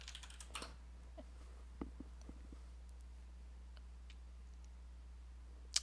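A computer keyboard tapped sparsely in a quiet room: a few soft, scattered keystrokes and one sharper click near the end, over a low steady hum.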